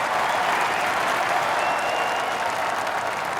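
Golf spectators applaud steadily, a dense, even wash of clapping from a fairly large crowd that holds at full strength throughout without any talking.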